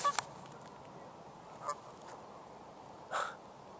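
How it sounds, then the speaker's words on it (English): A few distant geese honk in scattered calls over a quiet outdoor background, three or four short honks spread apart. "Geese."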